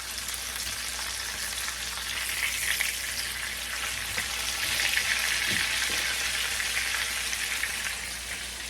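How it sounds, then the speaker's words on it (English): Chicken cutlets for chicken parmesan fry steadily in hot oil, a dense, even sizzle with crackling pops that holds at a constant close level throughout, with no voices. "While I'm waiting for these to finish up frying"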